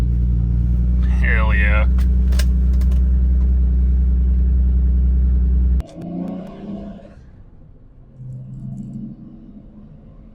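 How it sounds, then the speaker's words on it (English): A BMW E30 engine idles loud and steady after a cold start, a deep rumble that cuts out near the end, followed by quieter shuffling and brief talk. "I'm just out here warming the old E30 up"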